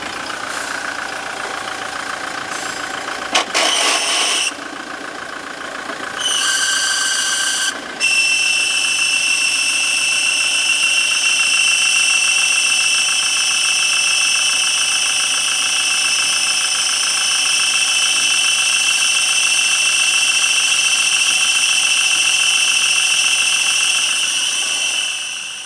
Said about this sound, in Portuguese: Toyota Hilux 2017 com 117 mil quilômetros. Com aquele barulho que vocês viram aí.